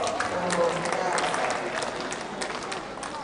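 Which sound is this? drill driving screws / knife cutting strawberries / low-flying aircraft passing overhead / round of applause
round of applause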